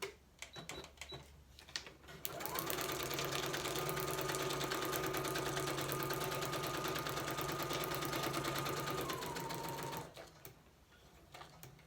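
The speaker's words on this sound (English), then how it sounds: "I don't know if you're supposed to sew on this stuff or not, but I'm gonna." Sewing machine stitching through craft material, a steady fast mechanical whir running about eight seconds alone, starting and stopping abruptly.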